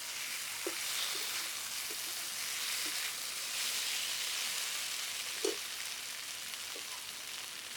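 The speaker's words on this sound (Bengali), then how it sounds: "একটু নেড়ে চেড়ে জল দিয়ে দেবো।" Onion, chilli and maya fish sizzle in a hot pan with a continuous hiss of frying oil, punctuated by a few soft scrapes and taps as the mixture is stirred.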